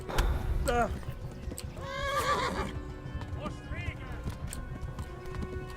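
Several horse whinnies ring out over hoofbeats and game ambience in Kingdom Come: Deliverance, the neighs loud and shrill, repeating a few times.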